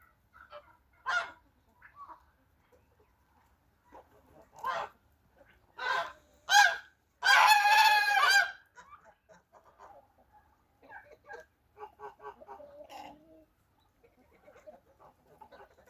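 Geese honk in a backyard farmyard that also holds chickens and roosters. Several loud, close calls come in short bursts, including a sustained harsh honking run, with quieter calls in between.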